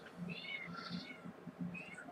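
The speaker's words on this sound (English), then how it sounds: "I don't know if y'all can hear that, but my cat's going batty over there." A cat meows repeatedly in a home, a series of loud, insistent, rising and falling cries close by with short pauses between them.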